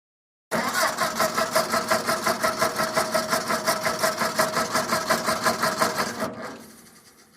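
A taxi's failing car engine runs with a rapid, rattling, pulsing chug for several seconds, then abruptly cuts out and fades as it dies.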